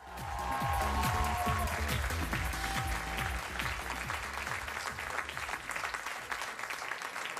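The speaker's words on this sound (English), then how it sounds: "Thanks for that extended applause to get us past a little bit there." Extended studio audience applause on a late-night talk show, dense and sustained clapping with some music or a low rhythmic pulse underneath early on.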